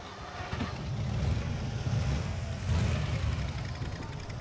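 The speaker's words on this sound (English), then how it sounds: "Definitely sounds like kind of a rear engine type of car." A steady rear-engine car engine drone in the video game SnowRunner runs low and continuous, holding a constant hum with slight swells in pitch, with no talk.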